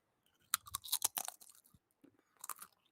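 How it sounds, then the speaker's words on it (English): Crunchy cheese snack bitten and chewed close to the mic, a burst of sharp crackling crunches followed by a short pause and a second cluster of chewing crunches. "oh yeah, it's a definite crunch."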